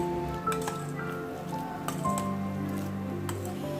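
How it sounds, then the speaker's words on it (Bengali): Soybeans being stirred with a spoon in hot water: soft, wet squishing and sloshing with a few light drips and clinks, continuous and close. "সয়াবিনগুলো একটি চামচ দিয়ে এভাবে নেড়ে দিব"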